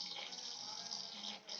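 Water pours steadily from a small submersible pump run off a battery, a continuous close splashing flow with a brief dip near the end.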